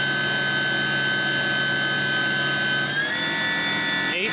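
A Kitamura Mycenter 1 vertical machining center spindle winds up with a loud, steady high-pitched whine that shifts upward partway through as it climbs in speed.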